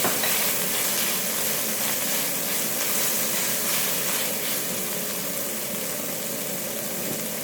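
Pre-cooked beef goes into a hot wok for Singapore mee goreng beef noodles, giving a loud, steady sizzle and hiss that carries unbroken throughout.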